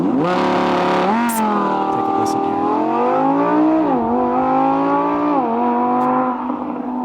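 A Huracan-platform sports car engine revving hard and rising through gears, loud and close, with brief lifts between pulls and a voice speaking briefly over it.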